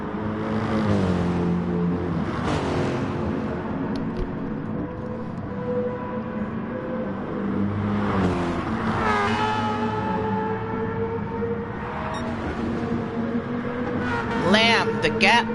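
A GT3 race car engine at Brands Hatch in a racing video game drones steadily throughout, its pitch rising and falling with gear changes, under continuous commentary.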